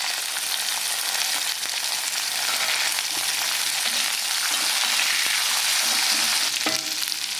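Urad dal, chana dal, onion and chili sauté in oil for a banana flower chutney, a dense, steady sizzling hiss close up with occasional stirring clinks, with no voices.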